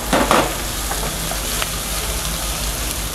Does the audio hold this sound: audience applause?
no